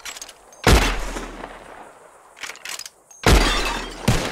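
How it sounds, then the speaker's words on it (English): Gunshots shattering bottles in Red Dead Redemption 2: two loud, close bursts of rapid shots, each with breaking glass and a ringing tail, separated by quieter clatter and a couple of smaller hits. "shoots more of these bottles wins"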